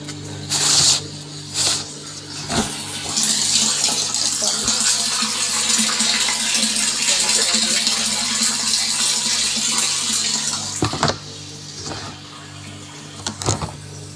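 Steady rushing water gushes from a pump pipe for several seconds with a continuous hiss, with a few sharp knocks near the start and end.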